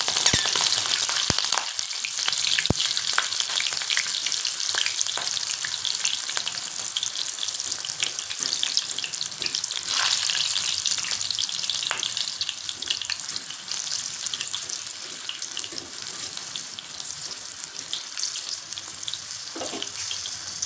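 Slit green chillies fry in hot oil as a steady, close sizzling hiss that runs unbroken for about twenty seconds, with occasional faint clinks.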